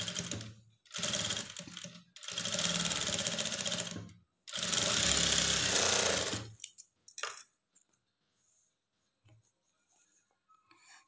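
Sewing machine stitching a blouse lining, running in three long bursts of rapid mechanical stitching with short pauses between, close and loud, then a few brief clicks and near silence.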